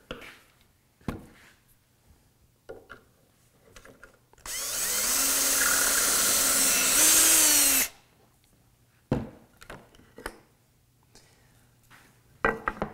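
A power drill bores a pocket screw hole in bookcase wood in one steady, loud burst of about three seconds, its pitch stepping up briefly near the end, with quiet handling clicks and knocks before and after.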